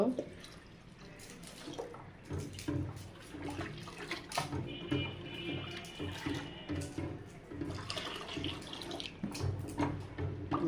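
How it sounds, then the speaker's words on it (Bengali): Water is poured into a cooking pot of boiled rice in a home kitchen while sour dal with olives is being prepared, a steady splashing wash with light dripping and some quiet talk nearby. "এবার আমি পানি দিয়ে দেব"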